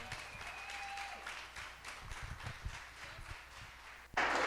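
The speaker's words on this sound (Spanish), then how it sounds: "si le damos un aplauso a nuestra pastora" Church congregation clapping for their pastor at a Sunday service, a moderate, scattered round of applause with some louder bursts, ending in a sudden loud rush of sound.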